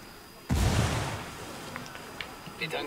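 A sudden loud boom from a grenade explosion in the video game Ghost Recon Wildlands bursts out and then rolls off into a lingering rumble, with a few faint clicks and small pops following.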